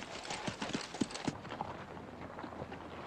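Cavalry horses' hooves clop on the ground as troopers dismount on a 1961 Western frontier march, several uneven hoof strikes close by over the first second and a half, then a softer shuffle of movement.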